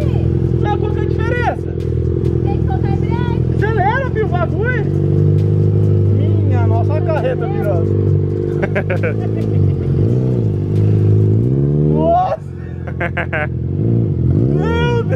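A motorcycle engine drones loudly and steadily close by, its pitch rising and falling as it revs and accelerates, while people talk excitedly over it.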